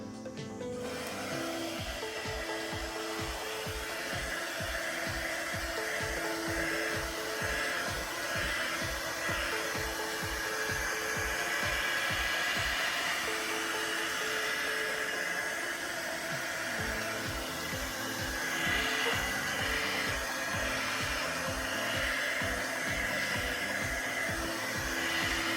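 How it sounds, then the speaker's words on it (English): A heat gun blows hot air over a swirled Dutch-pour resin painting, giving a steady, loud, continuous roar with a fast rhythmic flutter that runs the whole length, close by and with no voices. "Hit it again with the heat gun."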